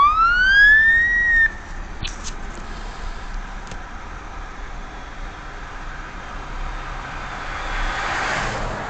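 A police car gives a loud, brief upward siren whoop that cuts off abruptly, followed by a quiet stretch of street and car noise, including a faint passing vehicle near the end.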